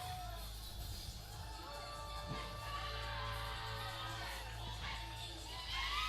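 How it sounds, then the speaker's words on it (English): Spectators at a powerlifting competition cheer and whoop loudly after a bench press attempt, a sustained roar of mixed shouts and yells that swells again toward the end, with scattered voices mixed in. "The crowd goes crazy."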